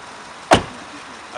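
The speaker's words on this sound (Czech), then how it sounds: "Tak podle zvuku dveří bych řekl, že ty dveře tam ještě pořád drží" A car door slamming shut once, a sharp solid thud close by, followed by a faint small knock and quiet interior ambience.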